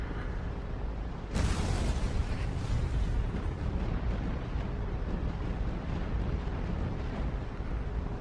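An aircraft blows apart in the WWII naval game Battlestations Pacific: a sudden loud blast hits about a second in, then a heavy roaring rumble holds steady to the end.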